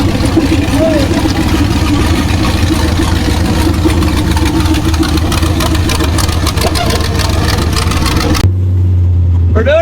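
An off-road El Camino race car rumbles loudly through its sighting lap at King of Hammers, its engine droning steadily and revving under constant rattling and wind buffeting before the sound cuts off abruptly near the end.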